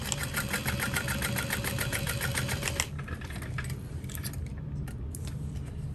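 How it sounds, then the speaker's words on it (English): Sewing machine top stitching a fabric shoulder bag, a fast steady whirring run of needle strokes for about three seconds, then stopping, followed by quiet handling clicks and rustles. "So we'll just top stitch it this way."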